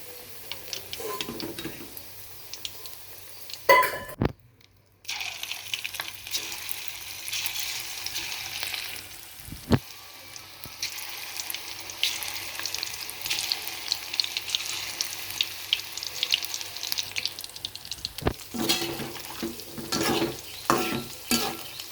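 Cauliflower fries in hot oil with a steady bubbling sizzle, close and moderately loud, with a few sharp clanks and utensil taps and a brief quieter gap near the start, without any talking.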